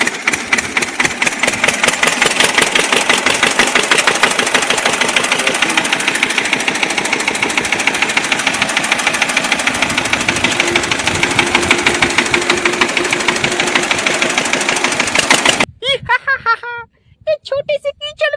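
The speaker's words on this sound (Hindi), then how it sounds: "ये ट्रैक्टर आ रहा है, लगता है इसमें फंस गया।" A mini tractor engine runs steadily and loudly near a muddy pond, a dense continuous rumble that cuts off sharply near the end, followed by brief speech.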